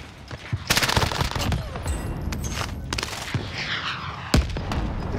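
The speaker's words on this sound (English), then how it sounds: "Yeah, fired so many rockets." Rapid bursts of rocket and weapon fire in the MP7 Rebirth video game, sharp booming blasts with loud cracks near the start and a heavy hit later, over a steady game din.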